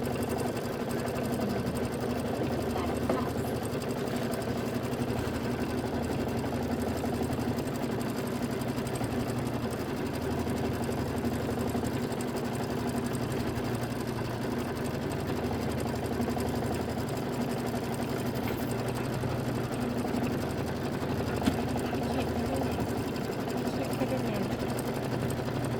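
A sewing machine stitches the watermelon placement and tack-down lines of a quilt block with a steady, fast mechanical hum. The whirring runs unbroken and fairly loud throughout, with no pauses.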